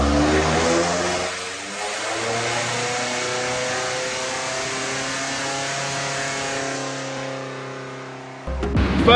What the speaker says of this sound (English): we attempted to do one dyno run just before we tuned it